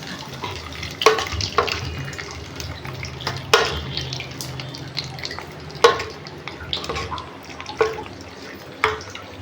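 Cooked moong lentil dal with bottle gourd is poured into a pan off the heat and stirred, with wet sloshing, scraping and several sharp clinks of a spoon against the pan at irregular intervals.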